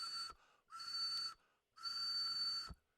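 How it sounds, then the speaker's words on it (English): Clay ocarina sounding a pure, steady tone with all holes covered, a clear whistle-like note played in three separate breaths with short silent gaps between. "ocarinas can have several holes. So this is what it sounds like with all the holes covered"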